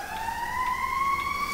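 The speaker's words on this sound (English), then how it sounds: "There's a police siren going." A police car siren wails outside, a steady rising electronic tone heard at moderate distance over a low background hum.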